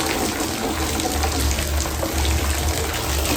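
Filtered rainwater pours into a container, a steady continuous splashing and gurgling stream heard up close, with rain conditions around and no talking.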